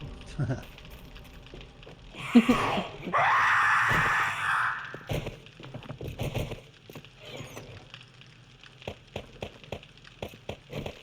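A zombie screams in 7 Days to Die, console edition, during a 10,000-zombie horde run, a loud harsh burst of about two seconds followed by groans and clattering game sounds, with voices talking in the background.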